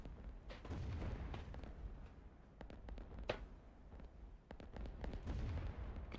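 Artillery bombardment in the strategy video game Rise of Nations, a steady rumble broken by repeated booms and sharp blasts, with one prominent crack near the middle and dense distant explosions throughout.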